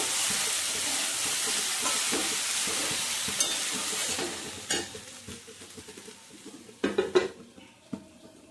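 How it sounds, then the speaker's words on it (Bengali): Duck curry with ground garam masala being stirred in a pan, with a steady, close sizzle and scraping stirs throughout that get sparser and more clattery toward the end. No one speaks. "গরম মশলার গুঁড়োটা দিয়ে খুব ভালো করে কিন্তু মিশিয়ে নেব।"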